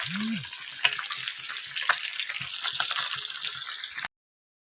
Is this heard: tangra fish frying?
yes